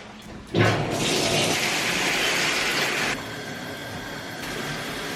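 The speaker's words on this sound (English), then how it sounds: "So let's get in the shower." Shower water starts with a sudden gush, then runs as a loud, steady hiss before dropping to a lower, continuous spray.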